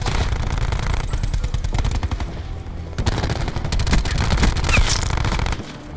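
Gunfire in the Call of Duty Blackout video game on the Alcatraz map: loud, sustained rapid automatic bursts crackle almost without pause, with sharper single reports mixed in.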